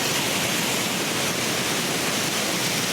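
A Lake District waterfall roars in a dense, constant rush of falling water, loud and unbroken.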